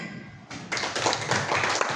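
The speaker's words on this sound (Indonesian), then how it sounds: "Tepuk tangan." Elementary schoolchildren clap their hands during a disaster-agency school visit, a quick burst of many small claps breaking out after a brief quiet moment and continuing briskly to the end.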